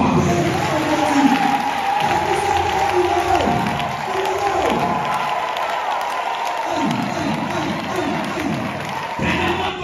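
A church congregation at a combat prayer service cheering and acclaiming the king, a loud, sustained crowd roar of shouts and applause with voices rising and falling in waves.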